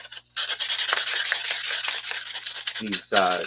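Welding rods being sanded by hand, a close, steady rasping rub in quick back-and-forth strokes, followed by a brief stretch of speech.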